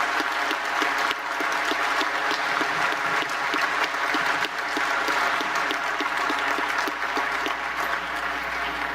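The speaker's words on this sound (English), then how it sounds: "perhaps we can just give a special round of applause to Mexico" Steady, dense applause from a conference audience, sustained and even throughout without pause, full and fairly close, with no voices rising above it.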